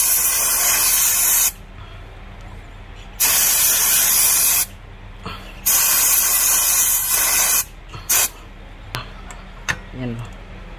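Spray cleaner blasted onto a car's throttle body and idle air passage in several hard hissing bursts of one to two seconds, with brief pauses and small clicks and rattles between them.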